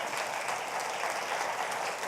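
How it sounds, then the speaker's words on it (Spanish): Church congregation applauding during a sermon, a steady dense wash of clapping that stays even and fairly soft throughout, with no voices over it. "Le damos un aplauso a Él"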